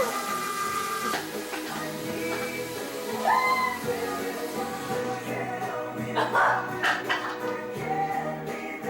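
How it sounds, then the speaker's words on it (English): A pet cat named Horace meows in a drawn-out, sing-song way indoors, several rising calls mixed with a voice coaxing it and a steady mechanical hum behind. "kitty, Horace, Horace, Horace. You singing"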